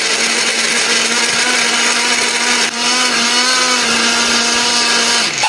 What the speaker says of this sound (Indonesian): Bumbu ini akan kita haluskan menggunakan blender, beri sedikit air atau minyak ya supaya lebih gampang untuk menghaluskannya.